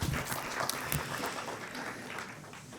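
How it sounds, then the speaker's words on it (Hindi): Audience applause at a mushaira poetry gathering during a literature festival, a steady wash of clapping that stays fairly even for a few seconds with some indistinct background voices. "खुबैब अहमद, जोरदार तालियां।"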